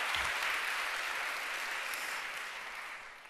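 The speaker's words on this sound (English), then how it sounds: "Another round of applause." Audience applause at a women-in-tech event, a steady wash of many hands clapping together that holds evenly and tapers slightly toward the end.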